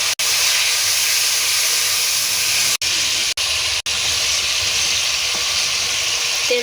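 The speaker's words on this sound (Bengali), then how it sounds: "এবার জিরে আর শুকনো লঙ্কা বাটাটা দিয়ে দেবো, হলুদ, লবণ, সামান্য একটু জল দিয়ে কষিয়ে নেব।" Cumin and dried red chili paste with turmeric, salt and a splash of water cooking down in a hot pan for dal, giving a loud, steady sizzling hiss that runs throughout with a few brief dropouts.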